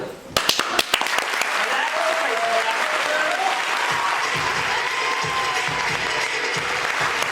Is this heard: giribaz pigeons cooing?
no